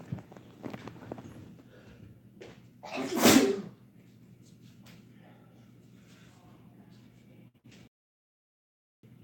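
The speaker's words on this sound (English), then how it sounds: "Keep thinking I'm gonna sneeze again." One loud, sharp sneeze bursts out in the middle, standing out against quiet room noise and a few soft sounds before it.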